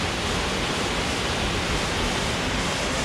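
A waterfall on Vancouver Island pours in a constant, dense broadband rush, heard up close with no pauses or voices.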